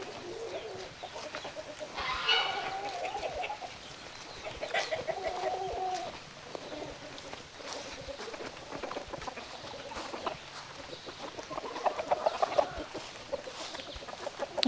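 Hens on a farm clucking and cooing in short bursts, close by, with chirping birds and rustling around them, over steady outdoor background noise.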